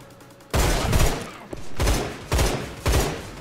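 Gunfire in the shooter game Line of Sight, loud bursts of rapid shots in several separate volleys with short pauses between, close and dominant over quiet game background.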